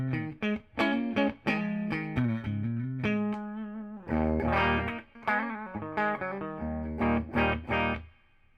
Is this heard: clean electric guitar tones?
yes